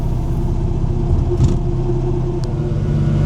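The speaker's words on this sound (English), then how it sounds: "I really like to sit in a car like this and then drive through places like that." A Panhard car drives along a road through a small former East German town, its engine a steady, close, low rumble with road noise that stays constant throughout.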